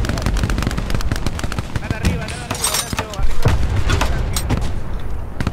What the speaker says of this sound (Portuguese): Esse tiro vindo daqui.